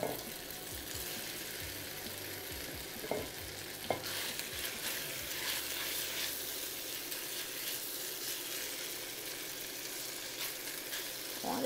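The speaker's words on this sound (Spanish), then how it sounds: "Ahora vamos a agregar nuestra carne que la teníamos marinando. Y vamos a sofreírla." Marinated beef for chop suey stir-frying in a pan with garlic slices, giving a continuous hiss and sizzle, with a few sharp knocks of a utensil against the pan early on and no voices.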